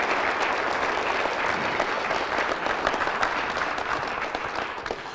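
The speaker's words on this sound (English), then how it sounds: "so give him a round of applause," A convention audience gives a round of applause, the clapping thick and sustained from start to finish and easing off slightly near the end.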